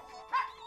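Small dogs giving a short yip or bark in a cartoon setting, one brief high-pitched sound standing out over a quiet background.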